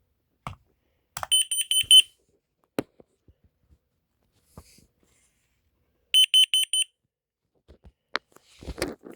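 A second new carbon monoxide alarm under test gives two short bursts of rapid, piercing beeps, close and loud, set between small knocks and handling noises.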